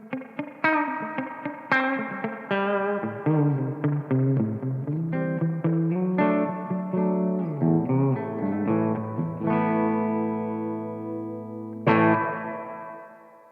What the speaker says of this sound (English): switch over to the spring reverb now so you can hear the difference